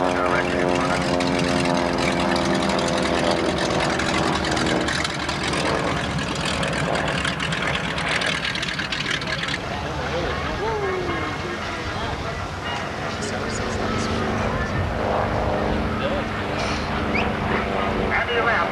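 A propeller airplane performing a slow roll at a 1984 airshow in Denton, its engine droning steadily and loudly with shifting pitch, while a public-address announcer talks over it.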